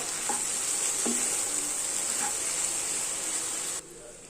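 Soya chunks are stirred into tomato gravy in a pan, a steady close sizzle with a few scraping spoon strokes, cutting off abruptly just before the end.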